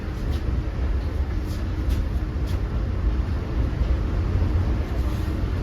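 A Long Island Rail Road M9 electric train at Hicksville station gives off a steady, close, low rumble with a faint higher hiss, continuous for several seconds with no talking.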